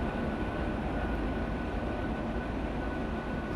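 Long train in the video game Transport Fever, a steady low rolling rumble of rail cars passing, continuous and even with no speech.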